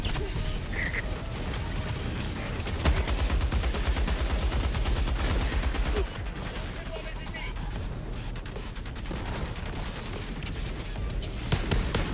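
Gunfire in the video game Helldivers II, with a dense, steady barrage of shots and mechanical clatter running throughout, mixed with game effects and voices talking over it.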